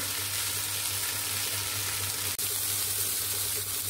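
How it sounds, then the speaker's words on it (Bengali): Yardlong beans (borboti) fry in a pan with a continuous, even hiss and a low hum, broken once by a sharp click. "এই যে আমার ভাজিটা হচ্ছে, এই যে প্রায় শেষের পথে।"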